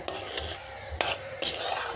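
A sugar and raw green papaya barfi mixture is stirred and fried in a wok, a steady wet sizzle with sharp scrapes and clinks of the spatula against the metal, close and without talk.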